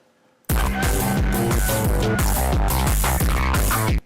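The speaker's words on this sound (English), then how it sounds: "now when I play it, you can really hear the distortion sort of kick in" Loud, dense distorted music with a heavy, pulsing low end and gritty saturated tone kicks in after a brief quiet start and runs steadily.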